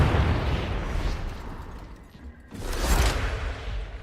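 A grenade goes off in Warhammer 40k Vermintide 2 with a loud rumbling boom. The blast falls away briefly and then returns in a second swelling burst.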